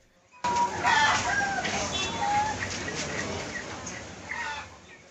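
Broiler chickens cluck and squawk in a noisy crowd at a market, with steady market bustle and faint voices in the background.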